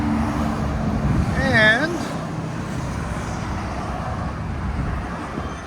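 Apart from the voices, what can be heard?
Chevy Silverado SS 6.0L V8 exhaust, Flow FX true dual, traffic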